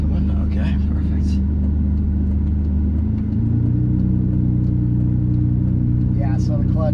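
A Ferrari 599 GTB V12 engine rumbles steadily, then pulls away as the clutch engages midway, its pitch and loudness rising slightly, while a person talks over it.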